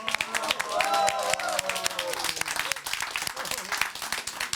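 Studio audience applause on a television show, dense clapping filling the room, with a presenter talking over it.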